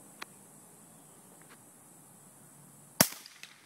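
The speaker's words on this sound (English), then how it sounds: "Today we're experimenting with tracer rounds." A single sharp crack of an MP15 rifle firing a tracer round stands out over quiet outdoor background, with a couple of faint ticks before it and a short, decaying echo after.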